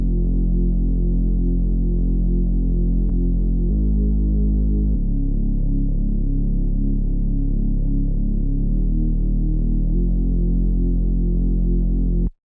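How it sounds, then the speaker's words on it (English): Two layered synth bass presets from the Serum software synthesizer, loud and sustained, droning and throbbing as they shift between several low notes for about twelve seconds with no talking. "So both of them are from Serum. They're both like synth basses."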